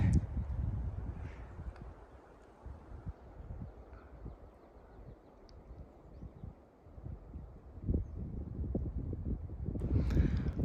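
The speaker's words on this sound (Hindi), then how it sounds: "पेड़ों को छानती हुई साएं साएं हवा चल रही है" Wind gusting through trees on the high Lamjura La mountain pass in Nepal, a steady low rushing that eases in the middle and swells again near the end, with no one talking.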